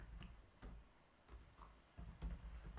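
Light keystrokes on a computer keyboard while entering a form message, a soft irregular patter of taps with a few louder clacks, close and quiet with no voice.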